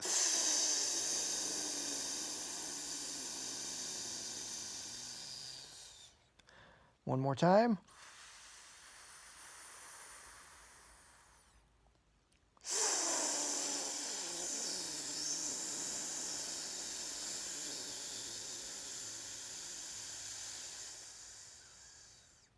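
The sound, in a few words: hissing out a deep breath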